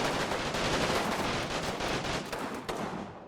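Gunfire from the World War II strategy game Combat Mission Final Blitzkrieg, a dense continuous wash of distant rifle and machine-gun shots with scattered sharper cracks, steady and loud before easing slightly toward the end.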